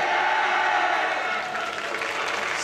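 Spectators at an indoor junior track meet in Japan clap steadily through a dense, sustained round of applause for athletes being introduced, with an announcer's voice faintly audible within it.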